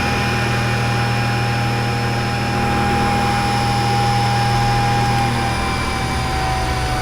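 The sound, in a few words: SCM T110 shaper with Delta power feed running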